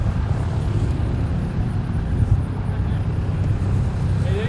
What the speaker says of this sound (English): focus this camera back on this aircraft.